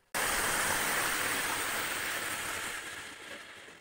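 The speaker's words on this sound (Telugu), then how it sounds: "మనకు అక్కడ పడుతున్న వాటర్ వచ్చి ఇక్కడ ఫ్లో అయితే వెళ్తున్నాయి చూడండి" Water from Talakona waterfall rushes and flows in a broad, steady roar that starts abruptly after a short near-silence, close and loud, tapering slightly toward the end with no voices.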